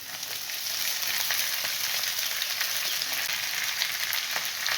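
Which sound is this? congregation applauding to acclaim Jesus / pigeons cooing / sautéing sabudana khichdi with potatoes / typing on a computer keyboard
sautéing sabudana khichdi with potatoes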